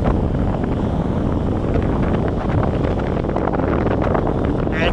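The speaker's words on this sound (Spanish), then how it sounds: "aquí tirando viento" Steady wind roaring across the microphone on a beach at Laredo during a northeast windsurfing session of about 17 to 19 knots, a constant loud rush with faint gusting texture and no pauses.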